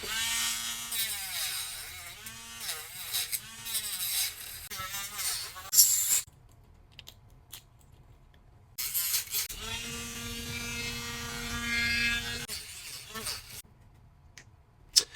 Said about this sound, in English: So when you're dremeling 3D printed stuff, you kind of want to go at a lower speed.